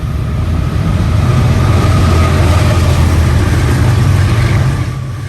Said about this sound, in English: a freight train from Brisbane to Melbourne